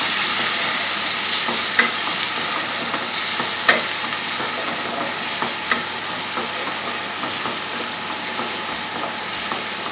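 Chopped garlic and ginger hiss steadily in hot oil for a Bangladeshi chicken curry with butternut squash, a loud, continuous close-up sizzle with a few small pops and clinks, no talk.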